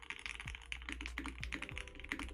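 Rapid, clacky keystrokes on a mechanical keyboard, a dense stream of taps with occasional deeper thocks, close and fairly quiet.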